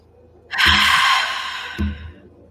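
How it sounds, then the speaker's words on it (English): A long, noisy sighing breath is pushed out through the mouth, breathy and close, starting abruptly, then tailing off, followed by a shorter puff of air. "this is a cleansing breath"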